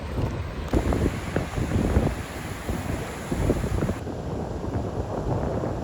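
Ocean waves crash and surge near the shore while strong wind buffets the microphone, a rough continuous roar with swelling bursts and no voices.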